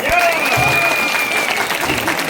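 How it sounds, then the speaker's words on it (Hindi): Audience at a motivational talk claps loudly, a dense wash of applause with a sustained tonal whistle or feedback line running over it and a few voices underneath. "बहुत जोर से क्लैपिंग करते हैं, बहुत जोर से ताली बजाते हैं"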